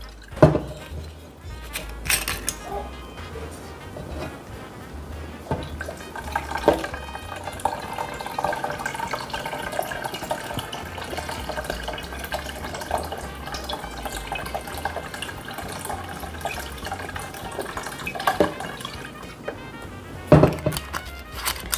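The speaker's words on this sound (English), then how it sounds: "Then we're gonna add the Bacardi." Bacardi rum poured into a homemade coquito mixture, a steady close liquid pour with light splashing and a few small knocks from the bottle and container.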